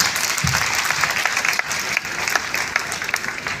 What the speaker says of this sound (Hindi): इसलिए आप अपने लिए ताली बजा सकते हैं